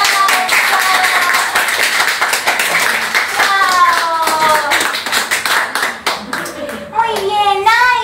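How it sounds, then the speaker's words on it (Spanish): A lively round of clapping from a small group at a child's birthday party, steady and close, with music and a voice rising over it toward the end. "¡Un fuerte aplauso!"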